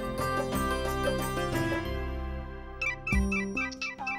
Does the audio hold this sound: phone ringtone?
yes